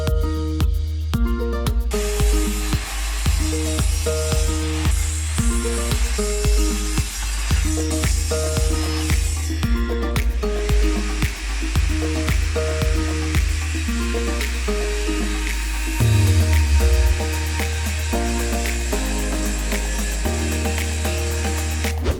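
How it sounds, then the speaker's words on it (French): Power saw cutting wooden planks in half for a DIY wooden cat tree, a loud continuous whining drone with repeated rhythmic bursts as the blade passes through each board. "je commence par couper ces planches en deux pour avoir des planches de 20 cm de large pour créer ce meuble"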